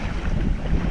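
A sailboat under sail in the Exumas, with a steady rush of wind and water against the hull, close and loud, forming a continuous roar without voices.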